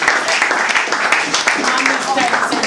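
An audience at a competition claps their hands, a continuous scatter of claps mixed with voices talking throughout.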